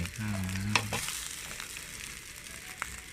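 Egg fried rice stir-frying in a hot pan, a continuous loud sizzle with scraping stir strokes and a few clanks of the utensil against the metal.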